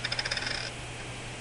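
Three coins tossed together onto a hard surface, a quick rapid run of bright metallic clinks and rattles settling within about half a second, close and clear with no voices.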